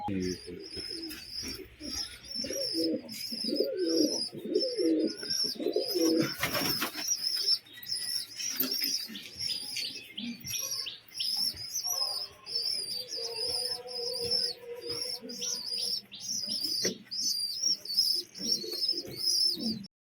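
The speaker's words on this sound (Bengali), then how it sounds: "এই দুটো নর্মাল পায়রা" Domestic pet pigeons coo close by in repeated, rhythmic, throaty bursts, with a brief flurry of flapping wings and some lighter chirps among them.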